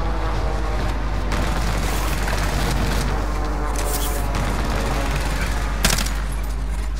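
Gunfire and explosions during a Call of Duty match with a precision airstrike, a continuous dense layer of game noise with scattered sharp bursts and booms.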